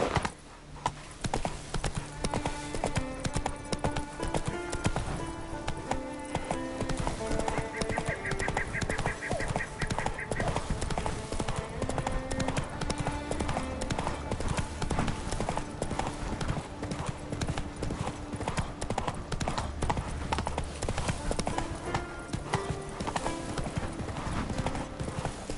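Roach, Geralt's horse in The Witcher 3, gallops with a fast, steady clip-clop of hooves that runs throughout, layered over continuous game music and ambience.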